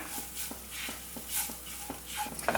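Coriander powder and garam masala are roasted in a pan for mushroom kurma, with a spoon scraping and stirring in soft, repeated strokes over a faint sizzle, close and quiet.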